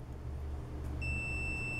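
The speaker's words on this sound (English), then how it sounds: "And you're going to hear a beep." A multimeter in continuity mode beeps while testing the leads of a 2.5, 3.5 or 6.3 mm audio jack cable. A steady, clear electronic tone starts midway and holds to the end over a faint low hum.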